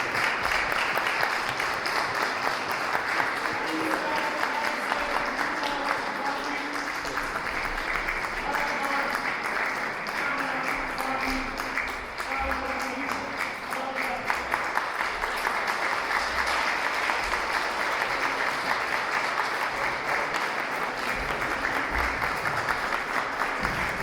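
Sustained applause from an audience at a Women's Day celebration in Chełmsko Śląskie, Poland, a steady dense clapping that continues evenly for the whole stretch, with faint voices beneath.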